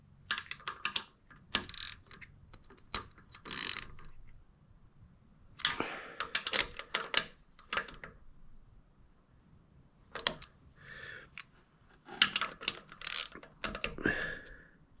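A ratchet driver spins bolts down on a generic Sohn adapter install on a Mazda RX8, giving close, rapid clicking bursts in several clusters separated by short pauses.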